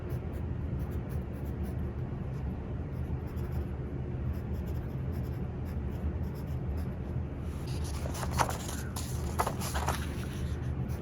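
A pencil writes on paper in a lesson planner, a steady soft scratching over a constant background hum, with a few sharper strokes near the end.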